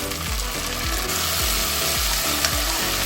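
Mutton keema sizzles in a pan while ginger garlic paste is stirred through it, a steady frying hiss broken by a rhythmic scrape of the spoon roughly every half second, close and even.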